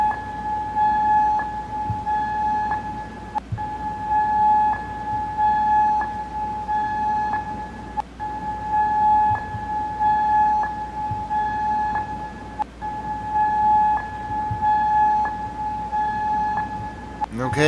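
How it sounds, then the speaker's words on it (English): Air raid sirens sounding in Kuwait, a sustained steady wailing tone that holds for the whole stretch, with faint background noise and no voices. "Where air raid sirens are sounding."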